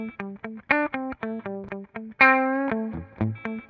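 Short plucked or synthesized notes played through a reverb effect unit, a quick rhythmic run of separate tones, then one longer sustained note whose tail rings out and decays before the short notes resume, close and clear without voices.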